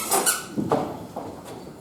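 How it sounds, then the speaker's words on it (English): A small object squeaks several times as it is tried out, sharp short chirps spaced unevenly, close and fairly loud with no talking. "Did you notice that this one squeaks?"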